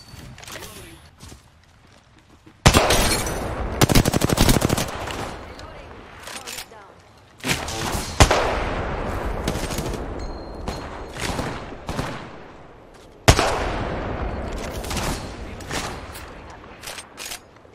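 Apex Legends gunfire comes in sharp, loud bursts of rapid shots with gaps of quieter game noise between them, some bursts cutting in abruptly at close range.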